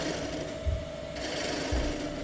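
Wood spinning on a lathe hums with a low motor whir while a ball gouge cuts gently, giving two soft thumping swells over a steady mechanical drone.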